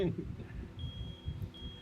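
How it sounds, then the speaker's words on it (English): A fire alarm beeps faintly in the background, two long thin electronic tones sounding some distance away beneath a low room murmur. "Had a fire alarm again."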